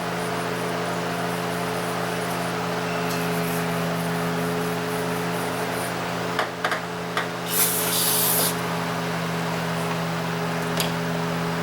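Cleaner sprayed onto an engine cylinder head during a valve cover job gives a steady close hiss throughout, with a brief louder burst midway over a constant low mechanical hum.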